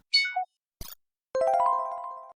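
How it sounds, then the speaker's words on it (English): A notification bell sound effect: a quick high chime slides downward, a short click follows, then a sustained ringing ding rings out and slowly fades, all clean and isolated. "ring that bell so you don't miss any future episodes"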